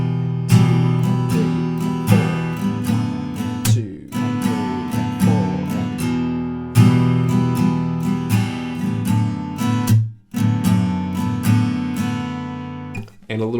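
Acoustic guitar strums the two chords of a song in a steady rhythmic pattern, with a muted down strum, bright ringing chords close up and brief pauses between passages.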